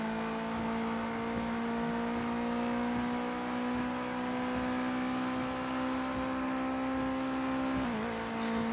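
A car engine in Project Cars 2 on a wet track holds a steady, buzzing whine with a strong constant pitch, briefly dipping near the end, continuous and close with no talking.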